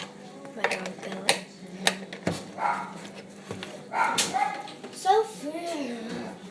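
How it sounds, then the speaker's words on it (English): A pet dog barks and yips several times indoors among clattering dishes, while people talk over and between the barks. "My dog Bella."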